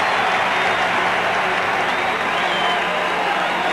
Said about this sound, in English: As if they need more reason to make noise, a wave rolls around the Metrodome.